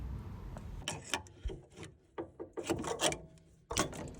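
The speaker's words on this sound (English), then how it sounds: "I'm just going to use a screwdriver to pull it out" A screwdriver prying a clip out of a boiler pressure relief valve, a run of close metallic scrapes, clicks and knocks in irregular bursts with short pauses.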